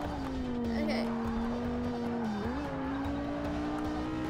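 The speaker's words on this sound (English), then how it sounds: "Oh, it records the like sounds of the cars." Racing car engine from Forza Motorsport 6: Apex on PC drones steadily throughout, its pitch dipping briefly then rising again as it revs, with a hint of tire noise, all loud and continuous with a voice faintly underneath.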